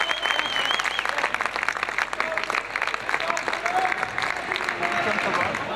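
A crowd of about 450 claps and cheers in a large indoor hall at a men's indoor hockey Bundesliga match, sustained applause with scattered whistles, while a commentator's voice runs over it.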